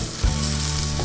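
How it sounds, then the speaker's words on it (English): A New York strip steak sears in a hot pan, giving a loud, continuous close sizzle that swells slightly near the start, with no one speaking. "First, here's the steak. I got it searing."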